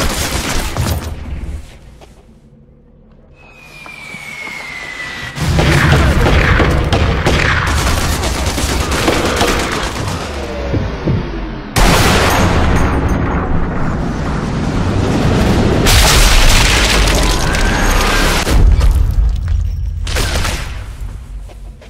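Gunfire and heavy booms from the Sniper Elite 2 video game, loud volleys and blasts swelling after a brief lull with a whistling streak, sustained dense combat noise throughout, no talk.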